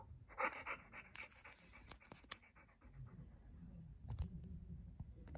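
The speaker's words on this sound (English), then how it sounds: "make a dog noise" A dog sound played back by a smart speaker voice assistant: rapid panting breaths followed by a short sharp bark, then low growling rumble toward the end, fairly close and moderately loud with no talking.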